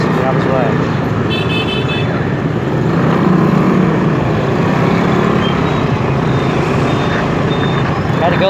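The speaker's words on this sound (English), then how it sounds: "There's a big-ass bus down this way." Busy Saigon street traffic rumbles constantly around a large bus, with engine drone, scattered horn toots and beeps, while someone talks over the noise.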